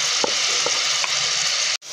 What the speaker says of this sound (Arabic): نبدأ نحط البصلة ونشوحها لغاية لما تحمر أول درجات الإحمرار.